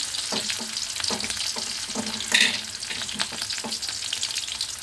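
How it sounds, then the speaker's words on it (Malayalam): Chopped shallots sizzle and crackle in hot ghee, a steady close frying hiss with repeated stirring scrapes in an even rhythm and one brief louder burst midway, with no talk. "നെയ്യ് നന്നായിട്ട് ചൂടായി വന്നിട്ടുണ്ട് കേട്ടോ അപ്പോൾ ഇതിലേക്ക് ഞാൻ ചീരുള്ളി ചെറിയ ഉള്ളിയില്ലേ ചീരുള്ളി എന്നാണ് പറയുന്നത് അപ്പോൾ അതും കൂടി ഒന്ന് ചേർത്ത് കൊടുക്കുക"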